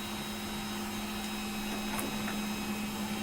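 A 3D printer runs with its heated bed warming up, giving a constant electrical hum with a strong low tone and broad steady noise, unbroken for the whole stretch and no talking.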